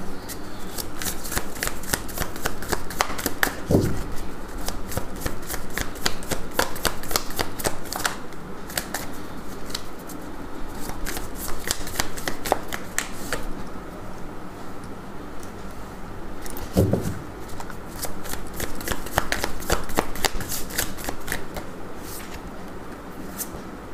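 Tarot cards are shuffled over and over in a close, crisp riffle, the rapid flicking of the deck going on steadily with brief pauses between shuffles.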